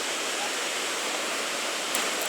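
Rough whitewater rapids on the Chattahoochee River roar as a steady, dense rush of churning water, loud and close, with no break in the sound.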